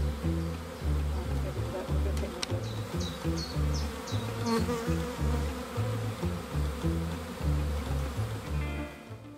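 A lively swarm of honey bees hums in a dense, continuous, pulsing drone close by, with faint bird chirps above and a brief voice near the start.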